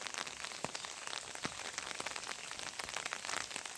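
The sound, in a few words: light drizzle of rain in a village field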